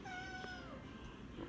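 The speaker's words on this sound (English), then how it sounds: "airport's closed for a large domestic cat on the runway" A large domestic cat gives one drawn-out, rising-then-falling meow, close and alone, indoors beside a model airport layout.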